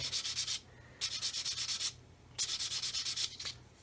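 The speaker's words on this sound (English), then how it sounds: "just sanding the fuselage until I see clear all around that masking tape" Three bursts of quick back-and-forth sanding strokes on the hard plastic fuselage of a 1/144 scale model aircraft, with short pauses between them, close and fairly loud.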